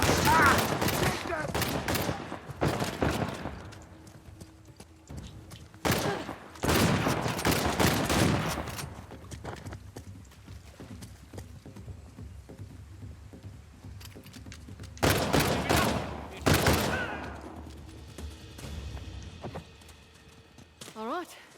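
Gunfire in the video game Uncharted: The Lost Legacy comes in dense, loud volleys of rapid shots. Three main bursts are separated by quieter stretches, with voices heard in between.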